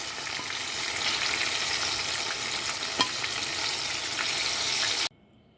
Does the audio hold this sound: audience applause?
no